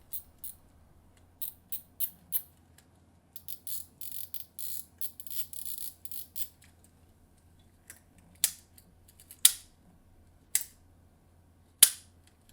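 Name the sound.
Daiwa T3 SV fishing reel drag clicking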